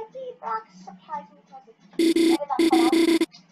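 A telephone rings in the Deltarune video game in two loud electronic bursts, following a stretch of a young voice talking over quiet game audio.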